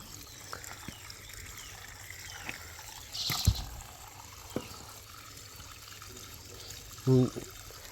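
Air escapes from a biogas digester as cow dung slurry is poured in, making a faint, low trickling gurgle with a couple of brief louder bursts, while voices murmur nearby.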